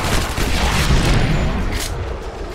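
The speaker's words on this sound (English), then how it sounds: "I'm just gonna shoot him till he dies." Gunfire in the PC shooter Shadow Warrior, a loud, sustained barrage of blasts and booming shots layered into a thick, continuous roar.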